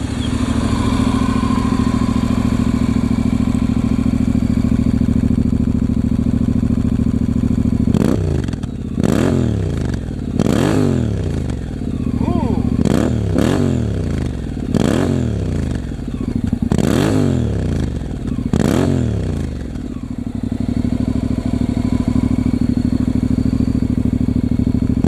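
A motorcycle with a homemade steel-reinforced epoxy quiet-core muffler idles steadily up close, then revs repeatedly in a series of about seven quick throttle blips before settling back to idle.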